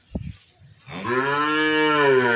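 A Holstein Friesian cow on a farm lets out one long, loud, drawn-out moo that starts about a second in and holds to the end, after a brief knock.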